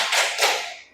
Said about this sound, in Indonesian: Tepuk semangat dulu dong, biar semangat semuanya